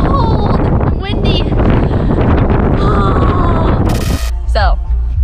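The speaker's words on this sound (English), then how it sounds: "Holy cow, it's freaking cold and windy." Strong cold wind buffets the microphone near the Hoover Dam security check, a loud continuous rumble and gusting roar with people talking over it.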